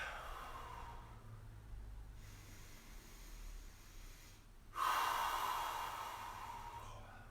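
During a yoga stretch, a person gives one long breathy exhale close by, a soft hiss that swells suddenly and then slowly fades, with quiet room tone before it.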